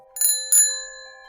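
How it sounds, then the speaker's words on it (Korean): A shop door bell rings twice in quick succession as the door opens, bright metallic dings with a clear ringing tail that fades out, close and alone in quiet surroundings. "가게 문이 열리는 종소리가 들렸습니다"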